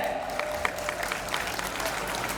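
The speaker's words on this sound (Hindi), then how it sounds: "जोर से ताली बजा कर इनका स्वागत करें।" Loud welcoming applause from the audience at a community education society function, a thick, sustained clatter of many hands with scattered crisp claps and a faint murmur of voices beneath.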